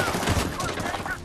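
Rapid gunfire bursts from the Medal of Honor: Warfighter video game, dense and continuous across the whole moment, with a voice talking over the shooting.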